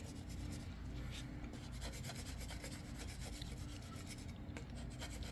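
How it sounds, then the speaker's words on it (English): A plastic scraper works old gunk off a Pattern 14 rifle stock during refinishing, giving quiet repeated rasping strokes in a steady rhythm, close and alone. "I like to use a nice plastic scraper. Doesn't do too much damage."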